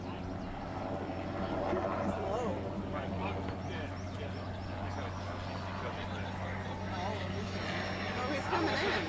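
A crop-spraying helicopter drones steadily overhead above a beep baseball field, its low rotor and engine hum constant throughout while people talk nearby.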